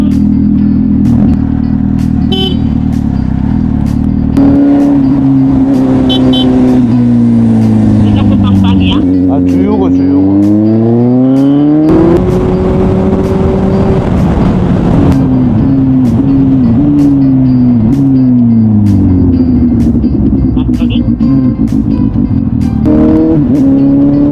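A car engine runs loud and close, its pitch rising and falling repeatedly as the vehicle pulls away and changes speed, with voices talking inside the cabin.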